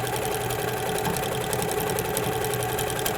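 An HQ Avanté longarm quilting machine runs steadily while micro-quilting a stippling pattern with fine thread and an open toe foot, giving a continuous, close mechanical whir with a fast stitching rhythm and no pauses.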